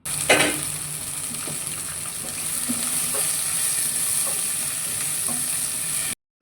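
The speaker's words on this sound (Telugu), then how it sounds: "ఇప్పుడు ఒక 2 to 3 మినిట్స్ వరకు ఫ్రై చేసుకోండి." Cut vegetables fry in a kadai with cumin, urad dal and curry leaves for a village-style pappu charu, a steady close sizzle broken by a sharp opening clack and a few spoon scrapes as they are stirred.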